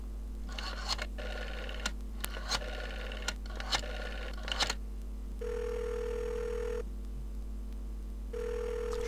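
A telephone in the adventure game Jack Orlando is dialed with a quick series of sharp clicks, then gives two steady ringing tones separated by a short pause, close and clear over a low hum.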